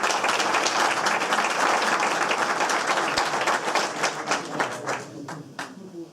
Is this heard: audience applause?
yes